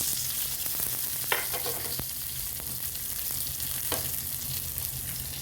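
Hot coconut oil tempering with mustard seeds, shallots, curry leaves and dried red chillies hissing and crackling steadily into rasam, a dense close sizzle with a few sharp pops.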